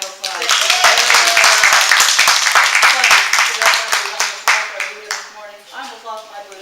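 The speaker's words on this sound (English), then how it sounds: "Give her another round of applause." An audience applauds a speaker at an inspirational talk, a burst of clapping with hands clearly separated in rhythm, then tapering off while a voice carries over the top.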